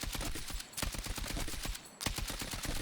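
Automatic weapon fire from a standing shooter in Battlefield 6, loud rapid bursts of shots with two brief pauses between them.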